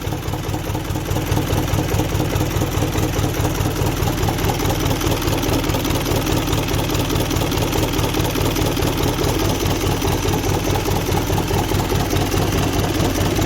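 An Isuzu 4HL1 half-cut engine in good condition runs loud and steady close by, a dense low mechanical rumble with rapid even firing pulses and a slight lift in pitch toward the end.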